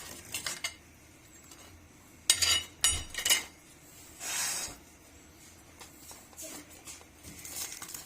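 Knife cutting through freshly cooked gram-flour (besan) naan pakora on a plate, with a few sharp scraping clinks of blade on dish in short bursts amid quiet pauses, plus a soft hiss.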